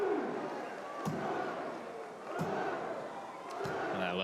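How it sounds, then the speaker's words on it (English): A French crowd at a STIHL Timbersports woodchopping competition cheers and roars in swelling waves, with thuds of axe strikes and talk over the noise. "You hear this French crowd getting into it"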